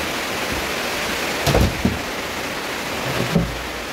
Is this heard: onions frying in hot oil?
no